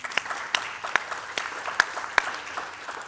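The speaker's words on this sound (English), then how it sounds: "Round of applause for Bianca." Light applause from a small group at a retreat Q&A session, scattered claps with a few sharper ones standing out, fairly steady for a few seconds.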